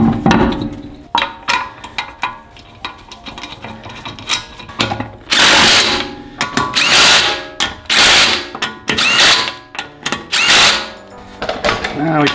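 A wrench tightens the wheel bolts after a front brake pad change on a 2017 Mini John Cooper Works: repeated loud, close ratcheting bursts in an uneven rhythm, separated by short pauses, with a voice briefly speaking between them.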